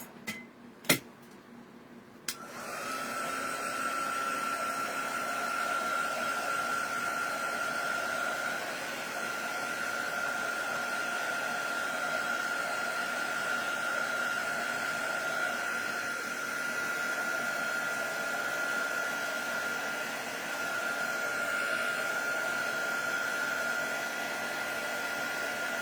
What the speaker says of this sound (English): dryer.